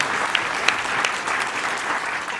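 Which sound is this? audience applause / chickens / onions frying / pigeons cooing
audience applause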